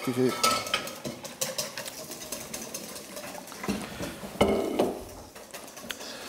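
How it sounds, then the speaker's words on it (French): Egg yolks with lemon being whisked hard in a bowl, giving quick, close scraping and clinking strokes in an irregular rhythm, with no talk over them. "Sur les jaunes d'œufs en mélangeant très fort."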